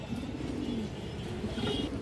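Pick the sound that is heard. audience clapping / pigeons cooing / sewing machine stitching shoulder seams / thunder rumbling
pigeons cooing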